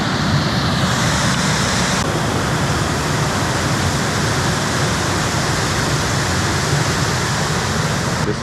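A waterfall in Olympic National Park pours in a steady, loud, broadband roar, dense and unbroken throughout with no voices over it.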